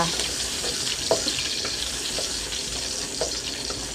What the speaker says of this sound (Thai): น้ำมันร้อนกระเทียมลงค่ะ